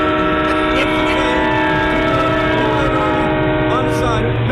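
Train station ambience dominated by a loud, sustained train horn blaring steadily, with the rumble of rail cars underneath and a voice faintly audible beneath the noise.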